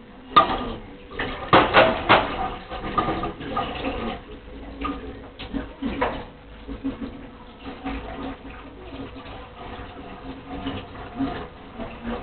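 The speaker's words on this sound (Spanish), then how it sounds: "¿Ya estás terminando de lavar los platos, mami?" A child washes dishes at a sink, with plates, pots and cutlery clinking and clattering in irregular bursts over the patter of running water, fairly close.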